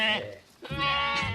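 Sheep bleat at a small rural school at the foot of the French Alps, where fifteen woolly animals are enrolled as pupils; loud, wavering bleats come close together with a short lull between them.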